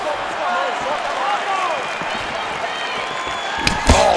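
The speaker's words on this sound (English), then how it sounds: "You hear this crowd just eating out of his hand, oohing and on every time he advances" Virtual arena crowd in the UFC 4 fighting game, Adesanya versus Oliveira bout, a steady roar with rising oohs and murmurs throughout, ending in a brief sharp impact near the close.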